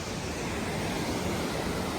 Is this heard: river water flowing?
yes